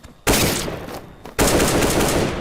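AK rifle gunfire on a Minecraft CSZ server: two loud sustained bursts of rapid automatic shots, close and harsh, separated by a brief pause, with no talk.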